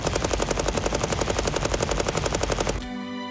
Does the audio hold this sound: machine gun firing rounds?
yes